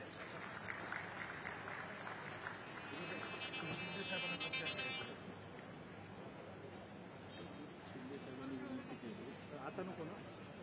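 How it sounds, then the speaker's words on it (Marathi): At a felicitation ceremony honouring dignitaries, a crowd's applause swells into a bright burst of clapping midway, while a speaker's voice carries over it before and after in a faint, distant hall. "जोरदार टाळ्या होऊन जाऊ द्या"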